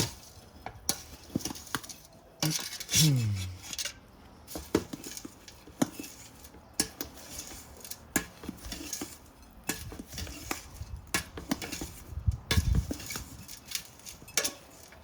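Potting soil being mixed by hand in a tub for sowing Yakumo heirloom snow peas, giving close, scattered scrapes, pats and gritty rustles in an uneven rhythm with a few sharper knocks, no talk.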